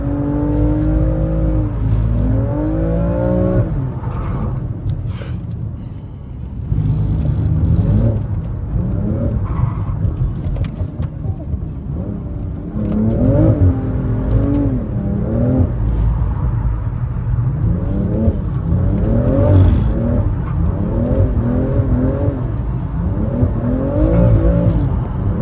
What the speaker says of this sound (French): comment c'est trop facile le drift